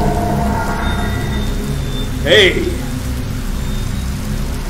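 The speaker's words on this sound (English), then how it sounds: "What are you doing out here in the pouring rain at this time?" Steady pouring rain hisses across a horror video game scene, with a brief louder swell partway through, while a voice shouts over the downpour.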